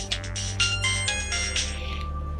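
A mobile phone rings with a loud, close electronic ringtone. A bright melodic tone repeats in quick pulses for a couple of seconds, with no talking over it.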